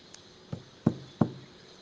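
Three hard knocks on a front door, evenly spaced and close, the last two louder and more solid, with a faint tap before them in a quiet setting.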